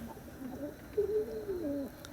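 Pigeons kept in a backyard loft give soft, low, rolling coos, with a few faint throaty phrases drawn out over a couple of seconds and a louder coo near the middle.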